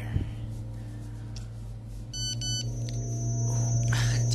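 A mobile phone text message alert in the Cry of Fear video game: a short burst of stacked electronic beep tones in the middle, over a steady low drone.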